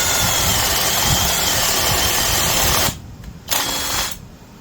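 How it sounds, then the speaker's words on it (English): A Vevor two-speed brushless 3/8 inch right angle drill runs with a steady, loud motor whine, then slows and drops off in two short bursts near the end as the load changes. "it's a 3/8 angle, right angle drill from Vevor"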